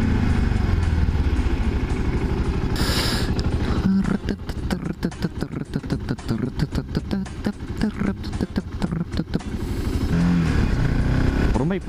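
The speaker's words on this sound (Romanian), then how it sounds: "N-are tobe, mă, motocicleta asta, că altfel ar suna bine, dar are o tobă. Tobă stock, atât." A motorcycle with a stock exhaust putters and idles nearby on a street, its engine giving a rapid, irregular popping rhythm with occasional revs, while someone talks over it.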